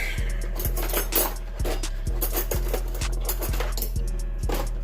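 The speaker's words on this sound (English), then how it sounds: "Take a spoon real quick, just shake it around, mix it up a little bit" A spoon stirring dye in a container for an RC car chassis, rapid rhythmic clinking and scraping against the sides, close and steady for several seconds over a low hum.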